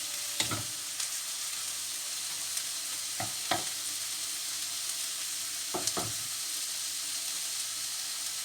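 Gochujang and tomato tofu being stirred with a large wooden spatula in a pan, a soft constant sizzle broken by a handful of sharp scraping knocks in small clusters, close but fairly quiet, no talk.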